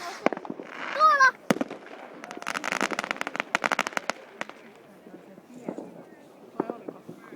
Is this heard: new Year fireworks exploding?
yes